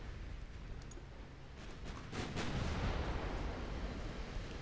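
Heavy cruisers fire their guns in a naval battle in the warship game Ultimate Admiral: Dreadnoughts, as a distant rumbling boom swells midway and lingers over a steady low roar.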